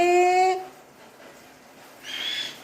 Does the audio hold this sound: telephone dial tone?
no